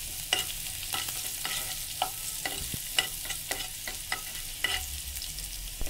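Chopped onion hits a hot pan and sizzles steadily, with frequent scraping and clacking strokes as it is stirred. The cooking noise runs on its own, with no voices.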